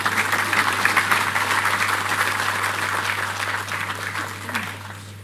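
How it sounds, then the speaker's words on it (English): Audience applause at a formal program launch in Nigeria, a dense steady clatter of many hands that holds strong and then gradually tapers off, over a constant low electrical hum. "Another round of applause, please, for Dr. Mohammed Al-Jasser, President of the Islamic Development Bank."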